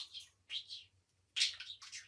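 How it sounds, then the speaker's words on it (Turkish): A budgerigar chirping in short bursts of high, bright sound in three separate clusters, with a faint low hum underneath. "Benim muhabbet kuşum küf ediyor"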